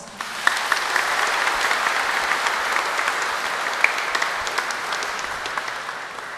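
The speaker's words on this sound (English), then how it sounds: "Let us give them a big round of applause." A crowd applauds at a Philippine Navy event at Fort Bonifacio, Taguig City, with sustained, even clapping from many hands filling the room and a few sharper claps standing out.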